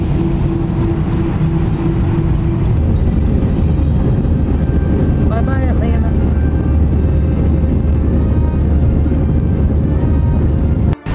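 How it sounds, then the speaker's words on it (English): Inside a passenger airliner as it lands: a steady, loud cabin rumble and engine drone that shifts to a heavier roar partway through, with brief faint voices. "Plane landing."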